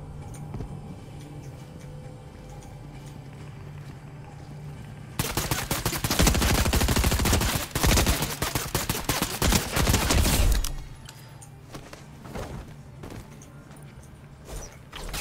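A burst of heavy gunfire in a Fortnite match, rapid automatic shots lasting several seconds and loud against a quiet game background, fading to a few scattered pops afterward.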